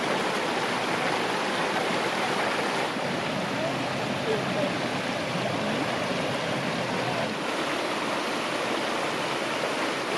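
Creek water flowing steadily, a continuous broad rushing and babbling wash that stays loud and even from start to finish.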